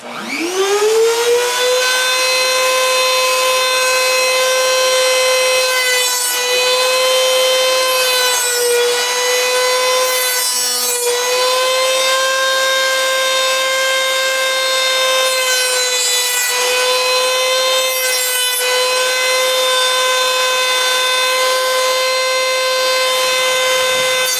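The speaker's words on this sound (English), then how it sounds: "back on the drum sander" A drum sander runs loud and close, holding a steady high motor whine, while wood for a holster is pressed against it in repeated passes that add rasping scrapes.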